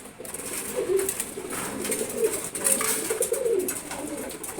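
Silver gora pigeons coo in a loft, several soft rolling calls overlapping at close range, with light rustling around them.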